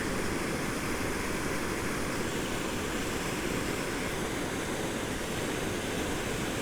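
The Bear River rushes through the Bear River Valley Recreation Area in Michigan in a steady, dense, broadband roar that stays close and loud for the whole stretch, with no voices.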